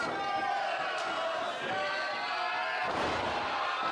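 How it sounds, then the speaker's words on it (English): A wrestler's body slams onto the ring mat in a scoop slam during a Hammerlock Pure Wrestling match, a single broad thud partly buried under a steady arena crowd and commentary. "Scoop slam here."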